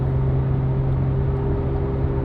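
A Porsche 992 GT3 RS with a titanium valved exhaust and OEM manifold, valves open, cruises at about 65 mph in seventh gear, giving a steady, loud, even drone heard from inside the car.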